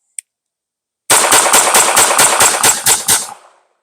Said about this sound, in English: All we're doing is 10 round mag dumps into the berm here.